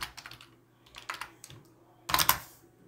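Quick bursts of clicky keystrokes on a computer keyboard while entering Python code, several clustered runs separated by short pauses, close and fairly quiet with no voices.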